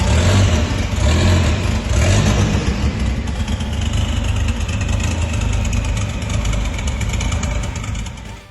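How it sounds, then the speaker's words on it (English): A Volvo 245 drift car's engine runs steadily with a low rumble, loud and close, the tone shifting slightly as the car moves along, with no talking. "At this point, moving on its own power."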